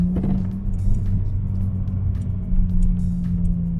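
A car drives with a steady low engine hum and road rumble heard from inside the cabin, and a few light knocks and clicks come through over it.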